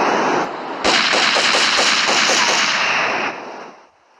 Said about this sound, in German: Ja, Nummer 2, die Pistole. Dass ihr mal den Klang hört.